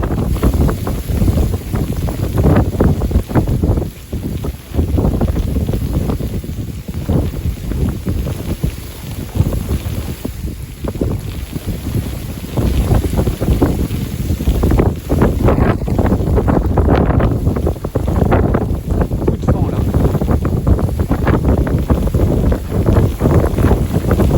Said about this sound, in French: Violente rafale.